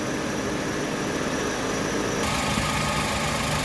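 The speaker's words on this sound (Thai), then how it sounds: "ตอนนี้เดินเบาเสียงการทำงานของคอมแอร์เงียบค่ะ" A Chevrolet Zafira's air conditioning compressor idles with a steady, even hum and a constant mechanical whir, close and unchanging, with no voices.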